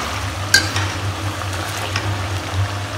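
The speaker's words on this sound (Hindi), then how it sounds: "इधर बस आलू फ्राई हो जाते हैं" Potatoes fry in a pan for an aloo gobi dish, giving a steady, close sizzle with a sharp click early on and a low hum underneath, with no voices.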